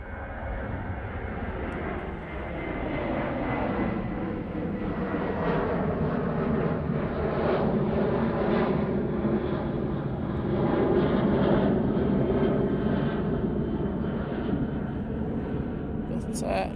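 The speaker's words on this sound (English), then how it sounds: "KLM 737 now departing off to Amsterdam Schiphol." A KLM Boeing 737 departs Manchester Airport, its jet engines a steady, building roar heard from a distance over a long stretch, with a voice talking over it.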